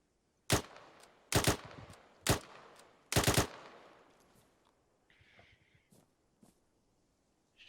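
Rifle fire at a shooting range in the Arma 3 video game: four sharp bursts of one to several shots, close and loud, then fading echoes and faint clicks.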